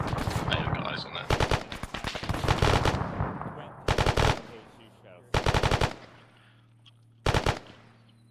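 Automatic gunfire in the military game Arma during a UNITAF operation, loud close bursts of rapid shots separated by pauses, with quiet radio-style voices between volleys.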